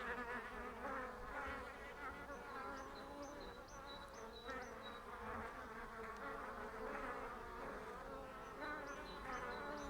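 Honeybees fly in and out of a hive on a warm April day in East Sussex, a dense, steady droning buzz close by, with faint bird chirps from great tits in the background.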